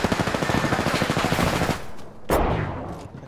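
Rapid automatic gunfire in the Apex Legends video game, a loud close burst of shots lasting well over a second, then a pause and a single sharp crack.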